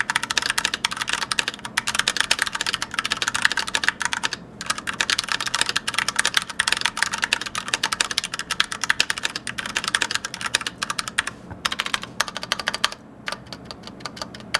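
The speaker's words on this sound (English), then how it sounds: "you probably want to hear how it sounds for yourself, so I'll tickle the keys a little for you." Steady, rapid clacking of mechanical keyboard keys, close and crisp, with brief pauses between bursts of keystrokes.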